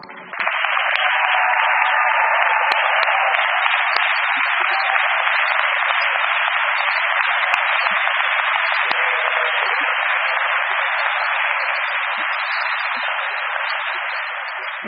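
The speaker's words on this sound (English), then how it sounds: "It seems that you've been so lovely applauding everyone." An audience applauds the graduating class of 2021 at the American College Dublin graduation ceremony: dense, sustained clapping that runs unbroken throughout and sounds thin and narrow.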